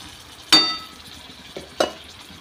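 Tomatoes being sautéed for upma in a pan: a sharp metal clink of a spoon against the pan, then two softer stirring knocks over a faint background sizzle.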